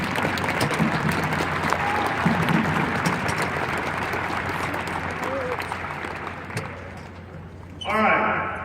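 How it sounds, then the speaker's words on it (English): A crowd in a basketball gym claps for the parents: sustained dense applause that fades toward the end, with a voice speaking briefly at the close. "let's give the parents a round of applause"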